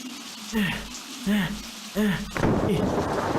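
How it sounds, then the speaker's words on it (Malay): Heavy rain with thunder in a storm: a voice talks in short bursts over a low background, then a dense, loud roar of downpour swells in and keeps going. "Hai, lebat betul hujan hari ni."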